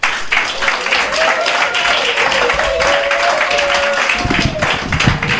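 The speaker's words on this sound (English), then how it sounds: "A round of applause, ladies and gentlemen." An audience applauds after a speech at a live event, a fairly loud, continuous patter of clapping that holds steady for several seconds, while a voice talks over it and low thumps enter near the end.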